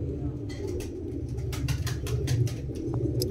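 Ferozepuri pigeons coo in low, throaty rolling calls, close and steady over a soft background murmur.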